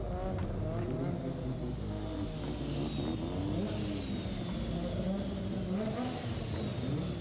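Two Mazda RX-7s drive together and accelerate hard, their engines droning loudly and steadily the whole time with rising and falling revs and no talking.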